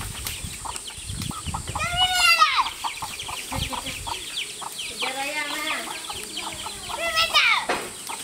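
A chicken clucks repeatedly, with a few louder squawking calls and a flutter of wings, close by, while people talk over and between the calls.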